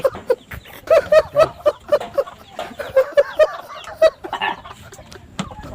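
Chickens clucking in a repeated, rhythmic series of short calls, fairly close, with a few people talking faintly in the background.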